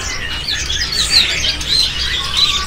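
Imported and local caged birds at the Pramuka bird market chirp and tweet in a busy overlapping chorus, with sharp, bright calls repeating over a steady low background hum.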